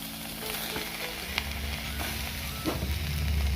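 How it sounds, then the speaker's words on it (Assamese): Fish pieces sizzle softly in a hot kadai with no oil, a low steady frying hiss with a few faint clinks, quiet and without talk. "এই কেৰাহী গৰম হৈ গ'ল এতিয়া তেল নিদিয়াকৈ মাছ কেইপিচ দি দিম"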